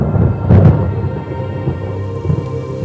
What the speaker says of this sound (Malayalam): മഴ പെയ്യുന്നത്